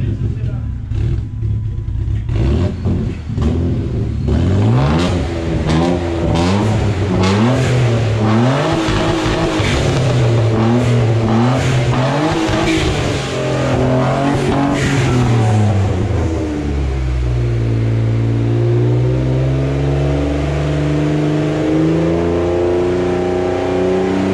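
A BMW 328i bi-turbo car engine revs loudly and repeatedly, climbing and dropping in pitch, then settles into a deep rumble, with voices talking over it.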